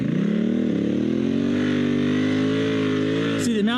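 A dual sport motorcycle on knobby tires churns through deep sand, its engine droning loud and close at steady revs, dipping briefly near the end before revving again.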